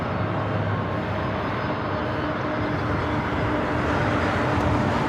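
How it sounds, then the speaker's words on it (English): Airliner taking off from the south side at LAX airport, a loud continuous jet engine roar heard from a distance, steady and broad with a slight swell, no talk. "Going to the south side for a takeoff here today."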